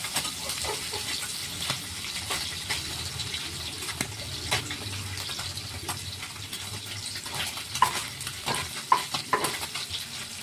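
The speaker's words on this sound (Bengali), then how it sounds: "এটা ভাজা হোক পাশে, আমি এই সাইডে কাতলা মাছগুলো দিয়ে দিই।" Pieces of fish, including catla, sizzle and crackle in hot oil in a pan, with steady frying hiss broken by sharp pops and the scrape of a spatula stirring; no voices.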